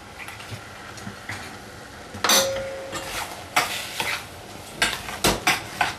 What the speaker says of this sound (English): Mix them in thoroughly so the color, the turmeric is evenly distributed.